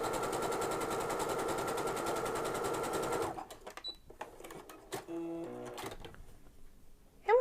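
A sewing machine runs steadily while stitching an overcast finished edge along fabric, a loud continuous whirring hum that stops abruptly partway through, followed by quiet handling clicks and small mechanical noises.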